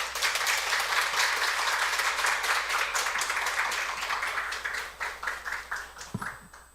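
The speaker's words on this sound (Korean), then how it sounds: "우리 함께 따뜻한 마음을 담아서 박수로 모시겠습니다" A church congregation claps warmly at a Sunday worship service to welcome a visiting missionary, with a full, steady round of applause that thins into scattered individual claps before a thump near the end.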